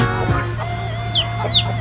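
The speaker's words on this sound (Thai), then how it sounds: "โอ้โหไก่อยู่ข้างบนก็มีนะครับ ไก่เพียบเลย" Chickens in a crowded coop area, some climbed up high, give a few short clucks and calls over a steady low hum, moderately close.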